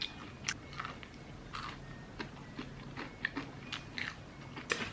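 Someone eats Nene fried chicken up close, making quiet crunchy bites and chewing that repeat irregularly in a calm, quiet room.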